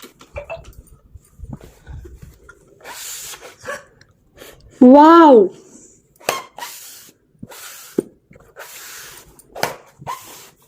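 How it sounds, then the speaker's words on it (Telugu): Several short hissing bursts of spray hit an ordinary wet sponge, spaced irregularly and fairly close, with a voice briefly exclaiming midway and quiet handling noises between sprays. "దాని మీద అయితే స్ప్రే చేస్తున్నాను"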